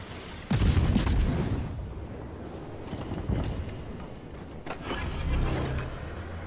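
Heavy booming blasts from the Soviet destroyer Okhotnik's guns fire in a World of Warships battle, a loud opening shot followed by several more thuds and rumbles.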